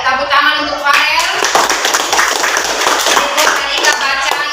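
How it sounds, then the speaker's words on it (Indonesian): Schoolchildren at an elementary school in Ternate clap for a classmate, a rapid, steady patter of many small hands close by, with voices mixed in underneath. "tepuk tangan untuk Farel"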